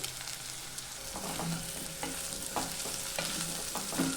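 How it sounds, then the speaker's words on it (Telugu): Boiled potatoes fry with cumin in a pan, giving a continuous crackling sizzle with repeated spatula scrapes and taps as they are stirred. "ఆలుగడ్డ ఆల్రెడీ ఉడికినేదే కాబట్టి ఒక 5 నిమిషాలు బాగా వేగితే సరిపోతుంది"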